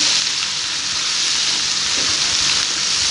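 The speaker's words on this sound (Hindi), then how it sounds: "2 से 3 मिनट के लिए हम इसे अच्छे तरीके से ऐसे ही फ्राई कर लेंगे" Egg and potato qeema frying in a pan, a steady close hiss and crackle of sizzling oil running the whole time without pause or voices.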